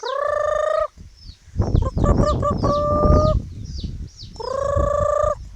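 Chickens cluck and call close by, with a long drawn-out hen call at the start and end and busy clucking and squawks between.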